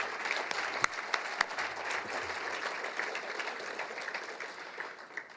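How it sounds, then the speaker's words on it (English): Audience at a gala banquet claps together in a steady, sustained round of applause filling the room, with a few sharper individual claps standing out. "I think you should give yourselves a round of applause for being here tonight"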